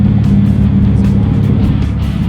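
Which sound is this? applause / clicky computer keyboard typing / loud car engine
loud car engine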